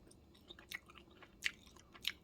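Someone bites into and chews a crunchy heated Hot Pocket, producing a few close, quiet crunches and sharper bites in an irregular rhythm against a hushed background.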